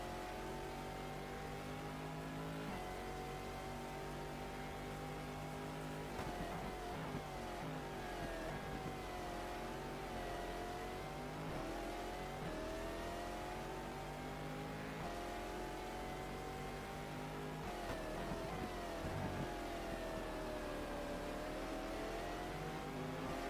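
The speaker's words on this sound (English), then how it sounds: "love the gear changes in this car as well." A race car in a racing video game set at the 2000 Sebring 12 Hours screams at high revs, its pitch climbing and dropping sharply with each gear change, a loud continuous engine note with no talk.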